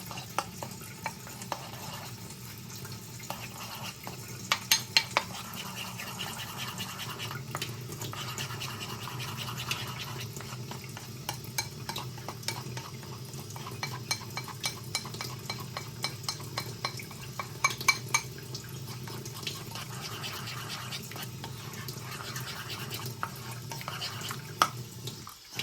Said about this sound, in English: So get a tiny spoon. Get this water drizzling. And I'm gonna mix it.